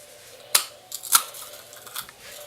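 A pill cutter snapping a bar of rosin, two sharp close clicks about half a second apart followed by softer crunches and scrapes, with no talk.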